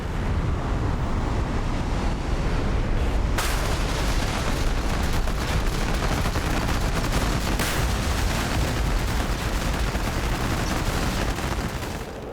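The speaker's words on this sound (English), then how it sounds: "Bombs away." Bombs exploding on a ground target in the DCS F-15E Strike Eagle combat flight game, heard as dull bursts inside a constant loud roar of jet and wind noise, with a sharper blast about a third of the way in.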